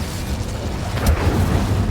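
A fiery Incendio spell cast in the video game Hogwarts Legacy, a soft whooshing burst swelling midway over a low rumbling background, moderately loud.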